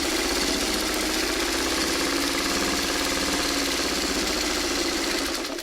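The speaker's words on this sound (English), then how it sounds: "now I'm sewing on the line" A sewing machine runs continuously while stitching quilt pieces, a steady close mechanical whir with a fast even rhythm throughout.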